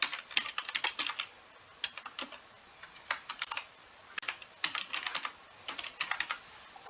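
Rapid keystrokes on a computer keyboard in short bursts with brief pauses as an email address is typed, close and fairly quiet, no one speaking.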